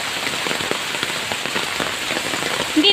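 Rain pours steadily into a drainage canal, a dense, even patter and wash of water running throughout at moderate loudness, with a few sharper drops near the end.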